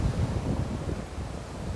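Wind gusts across an overcast, cold beach with surf rumbling beneath, a steady low roar and microphone buffeting continuing throughout without speech.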